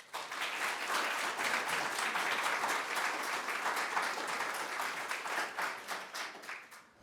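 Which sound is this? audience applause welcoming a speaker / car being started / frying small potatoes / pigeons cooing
audience applause welcoming a speaker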